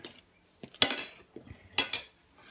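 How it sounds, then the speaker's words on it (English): A knife slicing egg jaffles on a plate, with two bursts of scraping, clinking cutlery against the dish and a few softer taps, close and without talking. "And I slice these up."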